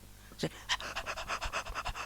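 A person's voice imitates a dog's panting, quick rhythmic breathy huffs repeated about a dozen times in a short burst, close and fairly quiet.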